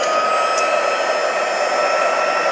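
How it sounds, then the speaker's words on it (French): A heat gun blows steadily to melt embossing powder on a handmade card, a loud, even, continuous whoosh running close and unbroken with no voices. "Je vais faire un peu de bruit avec le pistolet chauffant."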